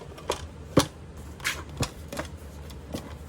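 Paper cutter trimming a 12-inch sheet of paper down to size, heard as a handful of sharp, separate clicks and slicing snaps spaced irregularly, close by and moderately loud over a quiet room.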